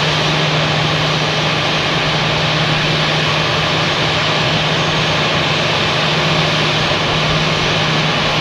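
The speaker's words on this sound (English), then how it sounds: "our Delta diversion is taxiing out" A Delta airliner taxis out, its jet engines giving a loud, steady roar with a constant low hum, heard at a distance and unbroken throughout, with no voices.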